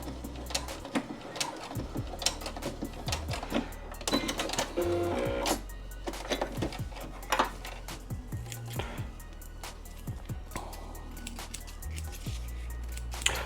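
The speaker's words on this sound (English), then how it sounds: "I'm just going to go to the edge and back stitch." Sewing machine back stitching a keychain lanyard at the edge, rapid bursts of clattering needle strokes broken by short pauses and fabric handling clicks, close and moderately loud.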